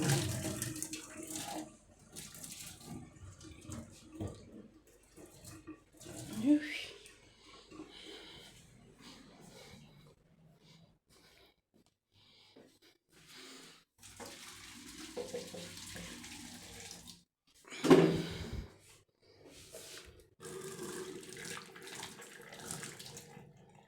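Water running from a tap to fill a coffee maker in a home kitchen, a soft intermittent trickle and splash with handling clatter and one sharper knock, fairly quiet throughout.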